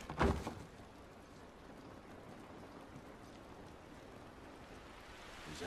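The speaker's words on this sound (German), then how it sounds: "Dieser Regen ist nicht gut für uns." Steady outdoor rain in The Last of Us, a continuous broadband patter holding evenly for several seconds after a brief sharp knock at the start, with no talking over it.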